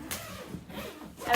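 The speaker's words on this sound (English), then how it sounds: "I would say the zippers are opening very easily" Zippers slide open on a hardshell expandable suitcase, a close, soft continuous rasp with brief scratchy bursts over about a second and a half.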